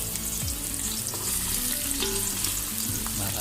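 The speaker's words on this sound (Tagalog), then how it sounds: "Ito na, nag-isa muna tayo ng sibuyas." Onions frying in hot oil for pork rib sinigang, a steady close crackling sizzle with bits of stirring and clattering, moderately loud and continuous with no voices.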